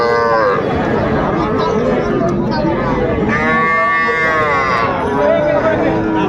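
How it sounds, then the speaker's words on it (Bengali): A heifer calf moos at a busy rural cattle market in Dinajpur, Bangladesh, with long, loud, drawn-out calls up close over constant background chatter and people talking. "ষাঁড় না বকনা? বকনা"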